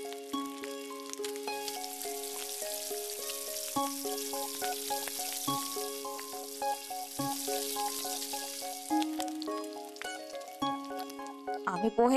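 Tempering sizzles steadily in hot oil for poha, a bright, continuous crackling hiss with occasional pops, set against soft background music.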